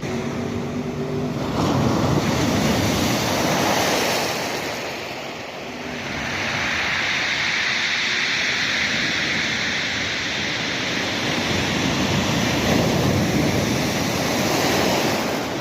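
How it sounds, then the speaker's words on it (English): Powerful sea waves breaking on a cold winter beach at Brighton and Hove, a loud continuous roar of surf that swells and recedes, with wind buffeting the microphone and no voices. "some of them waves are quite powerful"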